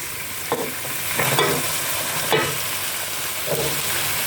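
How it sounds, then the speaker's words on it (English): Onions go into a hot pot while dinner cooks, giving a loud, continuous sizzle with several stirring scrapes and bumps spaced across it and no voices over the sound. "Now I'm going to put some onions."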